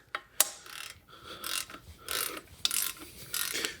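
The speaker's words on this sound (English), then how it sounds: "We're just going to go ahead and get those tightened where they want to be." A hand ratchet tightens bolts on the plates of a big-block engine, with quick clicking strokes in several bursts and short pauses between them, fairly close.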